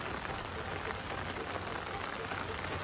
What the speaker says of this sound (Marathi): थोडं पाऊस असल्यामुळे